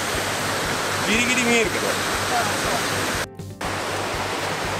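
A river flowing far below in a foggy mountain gorge gives a steady, broad rushing hiss, with someone speaking briefly over it and a short dropout near the end.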